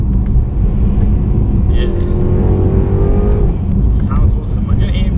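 A 2018 Mercedes-AMG E63 engine and exhaust rumble steadily and loudly, with a brief rising rev tone in the middle, while a person talks over it.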